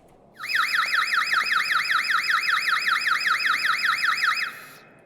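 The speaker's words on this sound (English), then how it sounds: "That sounds a little more like a vehicle alarm." A generic vehicle alarm in the Stormworks game wails in a fast, regular rising-and-falling siren, about four seconds of loud, even, repeating sweeps that then stop abruptly, with no voices.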